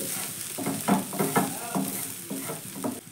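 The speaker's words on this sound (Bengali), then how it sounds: "এখানে সবজিটা আমার কিন্তু ভাজা হয়ে গেছে। এবার এটাকে একটু সাইডে সরিয়ে দিচ্ছি।" Vegetables frying in a pan and being stirred, with a steady sizzle broken by rhythmic scraping strokes of a spatula, close and fairly loud.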